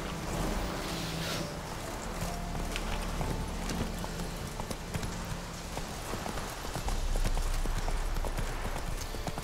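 Roach the horse gallops in The Witcher 3 with a quick, steady clip-clop of hooves running throughout, fairly loud and close.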